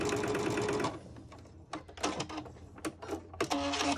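A sewing machine stitches a seam on a quilted zippered pouch. A fast, steady burst of needle chatter opens, then shorter stop-start runs follow with clicks and fabric handling between them.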